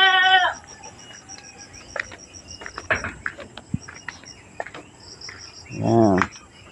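Goats bleat at a farm's goat pen: one loud, wavering bleat at the start and another near the end, with faint insect chirring and scattered clicks in between.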